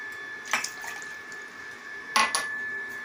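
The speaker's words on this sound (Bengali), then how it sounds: "দুজনের জন্য 2 কাপ জল নিলাম" Two cups of water poured into a pot for making tea, heard as two short splashy pours with faint clinks of utensils, close and moderately loud against a steady humming background.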